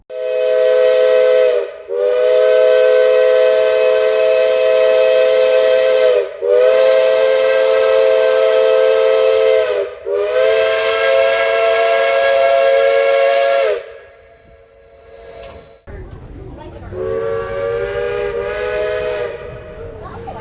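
A Durango Silverton narrow gauge railroad steam train sounds its whistle in long, loud blasts separated by short gaps, followed by a quieter hiss and a final fainter whistle as it departs.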